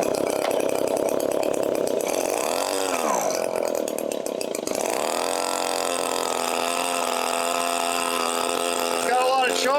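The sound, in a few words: Echo PB-265L leaf blower engine running with choke on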